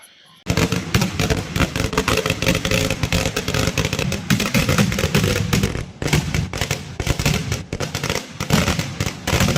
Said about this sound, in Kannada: ಬನ್ನಿ ಅದ್ರ ಪಕ್ಕದಲ್ಲೇ ಪಟಾಕಿ ಹೊಡಿತಾರೆ.